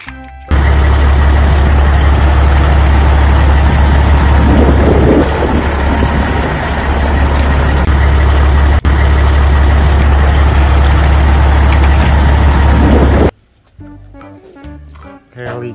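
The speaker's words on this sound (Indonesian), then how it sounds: "Ada dam truk." A dump truck idles with a loud, steady low engine drone that holds almost unchanged for around thirteen seconds before stopping abruptly, leaving faint scattered sounds.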